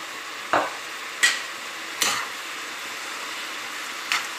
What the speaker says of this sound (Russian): И жарим капусту почти до готовности. Капусту регулярно перемешиваем.